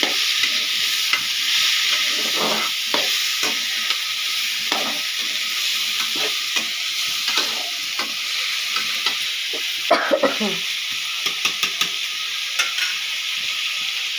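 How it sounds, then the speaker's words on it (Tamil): Boiled Chinese potatoes are stirred in a hot cooking pan for a Tamil aviyal, producing a steady close sizzle with occasional scraping clicks of the spoon against the pan. "அதே அதில் போட்டுக்கலாம். போட்டு இது 2 கிண்டு கிண்டிக்கலாம்."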